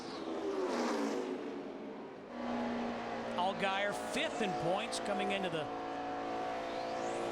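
NASCAR Nationwide Series stock cars in practice at Charlotte Motor Speedway, including Justin Allgaier's number 12, engines roaring past in several loud sweeping passes with falling pitch, under a commentator's steady talk.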